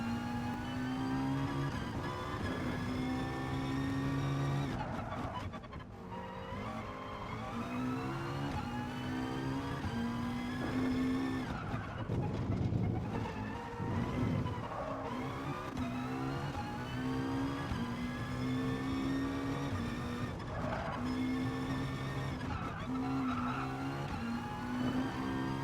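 Race car sliding wide through a corner of the Nordschleife in GT Sport and clipping a cone, with a loud, steady engine drone shifting pitch throughout and tyre scrub mixed in. No one talks.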